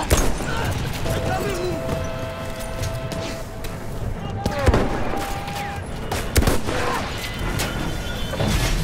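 An auto-detonating explosive blows up in the Battlefield 1 video game amid continuous gunfire and scattered booms, with a player talking over the battle noise.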